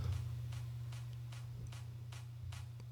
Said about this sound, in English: so these claps get introduced right at the start of this build up